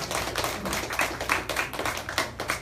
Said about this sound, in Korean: 여러분 뜨거운 박수 다시 한번 부탁드리겠습니다